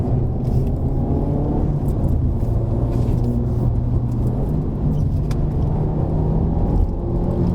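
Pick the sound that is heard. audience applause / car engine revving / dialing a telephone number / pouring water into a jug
car engine revving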